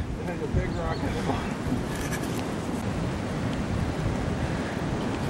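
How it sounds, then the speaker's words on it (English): Strong wind near the top of a hill, buffeting the microphone in a continuous rough roar. "so the wind's gonna pick up again."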